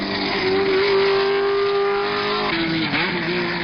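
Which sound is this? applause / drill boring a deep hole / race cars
race cars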